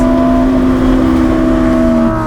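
A supercar engine roars loud and close with a sustained, droning rev that shifts tone briefly near the end as it downshifts.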